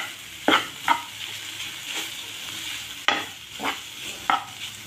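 Grated beetroot roasts in a pan for halwa, a soft sizzle beneath several distinct scraping stir strokes and spatula taps against the pan, close by with no speech.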